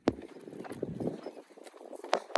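A mare wearing newly fitted leg straps walks toward a farm field, her hooves clip-clopping in a steady, uneven rhythm close by, with a few sharper strikes near the end.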